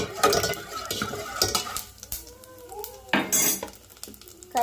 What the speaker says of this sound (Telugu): జీలకర్ర ఆవాలు వేసిన తర్వాత పల్లీలు కూడా వేసేసుకొని బాగా ఫ్రై చేసుకున్నామండి.